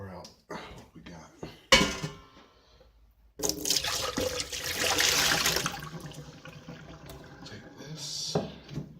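Whey being poured off homemade tvorog farmer's cheese in a kitchen, a splashing, gushing pour of liquid with some clinks of dishes, broken up by short pauses and quiet sounds.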